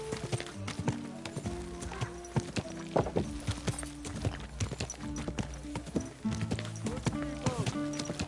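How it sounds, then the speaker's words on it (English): Horse hooves clip-clop at a walking pace on a hard surface in Kingdom Come: Deliverance 2, rhythmic and close, with occasional snorts and game ambient tones underneath. "Easy, good horse."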